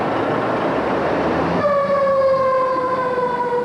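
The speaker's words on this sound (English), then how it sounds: "You stand on the streets, sirens and fire engines and ambulances go by regularly." A fire engine siren wails loudly over rumbling traffic, then settles into a strong sustained tone, close and continuous.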